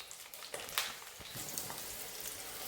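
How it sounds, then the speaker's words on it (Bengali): Eggplant sizzles and crackles as it fries in oil with a little salt, a faint, steady hiss dotted with small pops and spatters and no voices. "এবার একটু অল্প সামান্য নুন দিয়ে আমি বেগুনটাকে ভেজে নিই"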